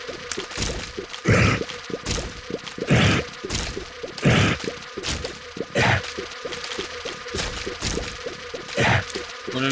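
Buzzing flies in The Binding of Isaac drone steadily under a dense game soundtrack, with rhythmic wet squishing hits recurring about every second and a half.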